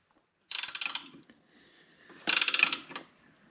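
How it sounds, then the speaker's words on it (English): Ratchet wrench tightening lock nuts on a hitch being fitted to a Honda Recon ATV, heard as two close bursts of rapid clicking pawl ratcheting separated by a short pause. "we'll have to use a ratchet wrench"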